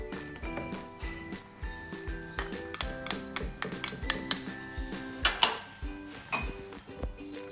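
A utensil repeatedly knocking and scraping against a bowl while burgo batter with tapioca flour is stirred, steady rhythmic clinks and clanks, close and fairly loud.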